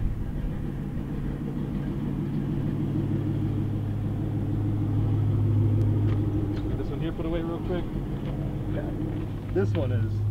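A 1969 white Chevrolet Camaro being driven, giving a steady low engine drone and road rumble heard from inside the car, with a slight rise partway through and faint rattles over the continuous hum.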